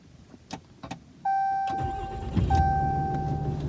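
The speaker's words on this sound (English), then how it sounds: "as soon as I started the engine" A few soft clicks, then a chime sounds and a car engine cranks and catches, settling into a steady idle with a warning tone.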